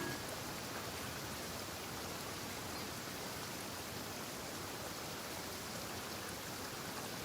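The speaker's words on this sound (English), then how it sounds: "Don't stay out in the rain for too long." Steady rain falls in the Genshin Impact video game, a dense, even broadband hiss that holds constant and close throughout, with no voices over it.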